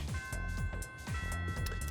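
Melodic school bell chime in the video game Persona 3 Reload, a few clear ringing tones sounding over a steady bass-heavy background music loop, moderately loud.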